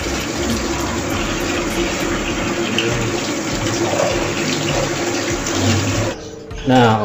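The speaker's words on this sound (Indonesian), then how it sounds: "ini kita udah mandiin pakai keran" A female bird is bathed under a running tap, a steady, close rush of faucet water that cuts off near the end, followed by a brief different sound.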